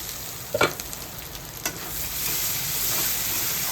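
Spice paste fries in a pan for a prawn malai curry, with several sharp spatula scrapes early on, then a steady loud sizzle that builds and holds close by. No talking.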